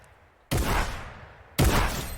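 Shotgun blasts in the Fortnite video game, two loud close shots about a second apart, each with a sharp onset and a long decaying tail.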